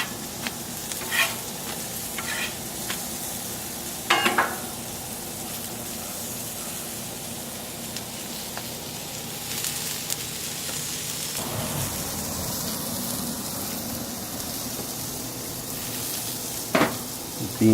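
Yellow corn tortillas sizzle in bacon grease on a Camp Chef flat top griddle outdoors, a steady soft crackling hiss broken by a few brief louder spatters and scrapes.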